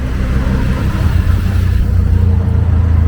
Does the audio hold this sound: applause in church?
no